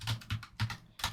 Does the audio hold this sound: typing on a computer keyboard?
yes